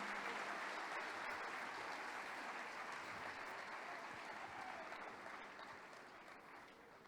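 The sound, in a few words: church congregation applauding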